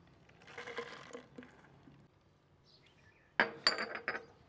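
Glass milk bottles knock and clink together as milk is poured in, a soft rustle first, then a close cluster of sharp clinks near the end.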